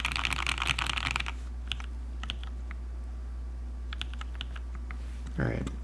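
Close, fast typing on an HHKB Black Prophet keyboard with H1 switches starts in a dense burst, then thins to scattered keystrokes, ending with a short low muffled thump.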